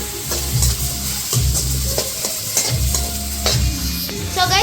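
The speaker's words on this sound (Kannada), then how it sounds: "ಇವಾಗ ಮಿಕ್ಸ್ ಮಾಡ್ಕೊತಿದ್ದೀವಿ" Mutton sambar masala is stirred in a frying pan with a steady sizzle underneath, the spoon scraping in repeated strokes, loud and close with no talking.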